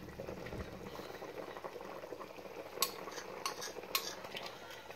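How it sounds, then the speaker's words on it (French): A spoon stirs a simmering pot of peanut and okra sauce, giving a quiet bubbling with a few sharp scrapes and clinks of utensil against the pot. "So always stir your pot to make sure it does not get burned."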